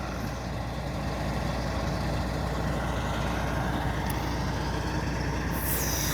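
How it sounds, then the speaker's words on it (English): Heavy machinery works in a forest logging area as a loader fills a truck, a continuous low diesel rumble and mechanical drone heard from a distance, steady throughout with no talking. "He's just loading a truck at the moment."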